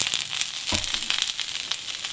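Cabbage simmers in rosemary-seasoned olive oil in a pan, giving a continuous close crackling sizzle with small pops and one brief louder scrape.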